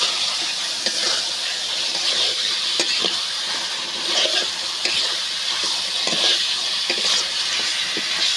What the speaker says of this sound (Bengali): মাছের মাথাটা সুন্দরভাবে কষিয়ে নিলাম।